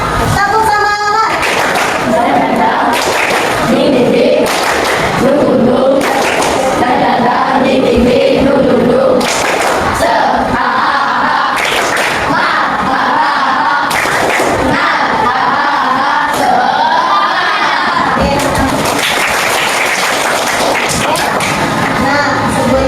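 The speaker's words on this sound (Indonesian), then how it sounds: "Tepuk semangat." A school classroom doing a rhythmic tepuk semangat clapping chant, loud patterned group claps and thumps mixed with children's chanting voices, close and continuous throughout.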